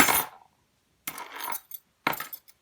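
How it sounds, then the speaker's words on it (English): A set of keys jangling as it is lifted by a small, strong survival-kit magnet: three short metallic clinks and rattles separated by brief silences, close and fairly loud. "You can pick up a set of keys"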